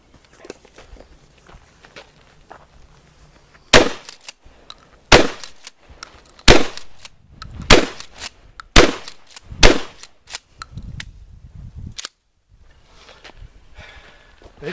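Six loud, sharp 12 gauge buckshot shots fired outdoors at a range from an IAC Hawk 981R pump shotgun, spaced roughly a second or so apart with brief pauses between, each a close, crisp blast with a short decay.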